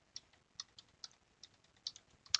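Keys tapped on a computer keyboard while entering text in Inkscape: quiet, irregular clicks spaced apart, with a slightly louder cluster of strokes at the end.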